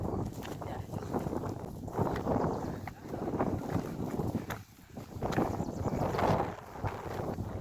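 Wind blows on a hilltop, buffeting the microphone in uneven gusts that swell and fade across the whole stretch, fairly faint and with no voices.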